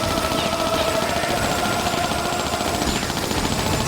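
Weapons blaze at the boss Astaroth in a Tomb Raider level: a dense, loud, unbroken barrage of rapid gunfire fills the whole stretch, with no talking.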